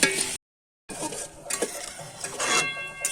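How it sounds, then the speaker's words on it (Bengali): Onions frying in ghee for birista in a village kitchen pan, with a spoon stirring and scraping against the metal, soft sizzling under irregular clinks and scrapes, broken by a brief silent gap. "আমরা ঘিয়ে করছি পেঁয়াজের বেরেস্তাটা পুরোটা ঘিয়ে।"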